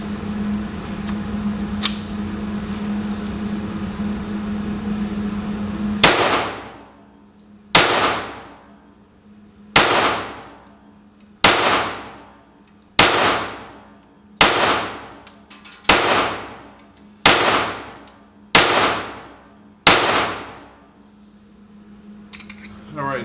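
A Browning Buck Mark .22LR target pistol fires ten sharp, evenly spaced shots up close, each crack ringing out briefly before the next, after a few seconds of low hum.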